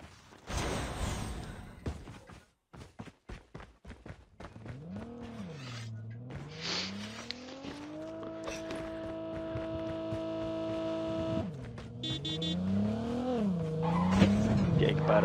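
A car in Call of Duty Mobile drives with a humming, revving engine whose pitch rises and falls as it accelerates and shifts, loud and near, with skidding bursts and scattered clicks and thumps.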